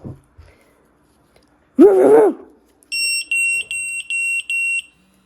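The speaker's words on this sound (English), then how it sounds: "So it did do the tone as well as the vibrate." A person gives a short bark-like vocal sound, then a Delupet dog training collar sounds four sharp, high-pitched warning beeps in quick succession.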